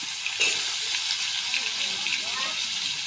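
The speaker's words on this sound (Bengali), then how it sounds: "আলু ভাজা হয়ে গেল এখন দিচ্ছি লাউয়ের ডগাগুলো" Potatoes and bottle gourd shoots fry in a pan for a chicken dish, giving a steady, fairly close sizzle throughout with a brief bump of stirring near the start.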